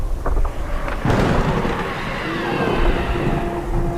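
A thunder crash rumbles through a narrated horror tale, with a few sharp cracks up front breaking into a long, rolling, loud roar that stays full to the end.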